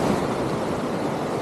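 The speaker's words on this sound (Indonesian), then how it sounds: "Nampak ombak dia besar." Large ocean waves surge and break on the shore at Tanjung Balau, a loud, continuous wash of surf with wind noise on the microphone and no speech.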